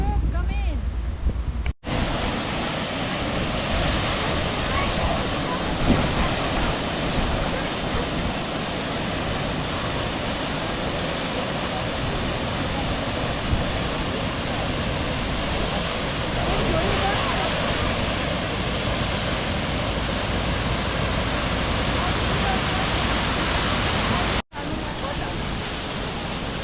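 A mountain waterfall near Juneau or Skagway, Alaska, rushes in a loud, unbroken roar that fills the whole scene, mixed with wind buffeting against the microphone.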